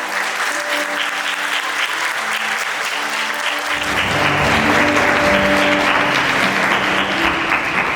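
Wedding guests at a wedding convention hall ceremony break into steady, dense applause that swells louder partway through and continues without pause, with faint background music tones underneath.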